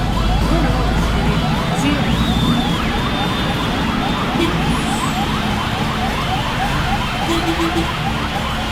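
A wailing ambulance siren cycles up and down steadily throughout, loud and close, over a constant engine rumble.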